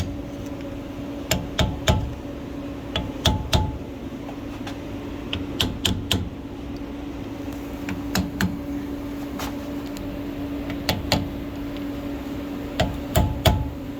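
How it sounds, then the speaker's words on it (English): A hammer with a striking cap taps a ball joint to seat it on a Ford Super Duty truck axle during ball joint and tie rod replacement, giving sharp metallic taps in short irregular clusters over a steady shop hum. "we want to tap that to make sure it's actually seated all the way around"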